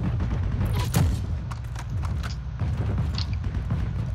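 Gunfire in the World War II online shooter Heroes & Generals: a quick burst of rapid shots followed by scattered single cracks and mechanical clicks over a rumbling game background, with no voices.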